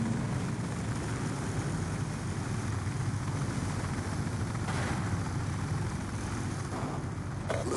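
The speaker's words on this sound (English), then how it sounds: "Friendly care package inbound." A helicopter in a first-person shooter video game drops a care package, its steady rotor and engine drone filling the clip at a constant level from start to finish, with no talk.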